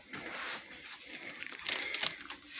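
Protective plastic film being peeled off LED side marker lights, a quick close crinkling and tearing rustle that swells in short bursts, quiet and alone.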